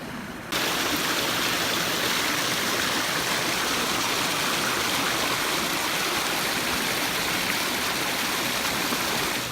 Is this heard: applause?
no